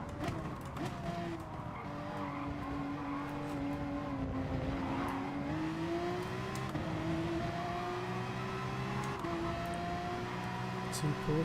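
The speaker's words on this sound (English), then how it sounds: "Two Porsches going through." Porsche race cars in GT Sport roar past with steady, whining engine tones that shift in pitch, mixed with tire squeal and continuous racing noise at moderate level.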